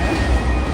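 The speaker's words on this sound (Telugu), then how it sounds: "మన ట్రైన్ వచ్చేసి నెల్లూరుకి అయితే వచ్చేసింది" Puri–Tirupati Express pulling into Nellore, a steady loud rumble of rolling coaches with faint wheel rattle, close and continuous through the short moment, no voices.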